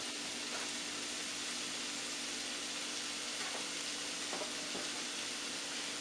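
Diced apples sauté in leftover bacon fat in a pan on medium-high heat, giving off a continuous even sizzle with a few faint stirring knocks, close and without talk.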